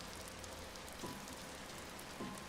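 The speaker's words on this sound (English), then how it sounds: "It's not a good sign, it started raining again." Steady rain falls in the video game Until Then, an even hiss of drops on surfaces with a couple of soft tonal game sounds over it.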